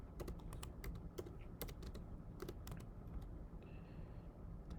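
Quick, light clicks of typing on a computer keyboard come in irregular bursts, quiet and close, over a low background hum.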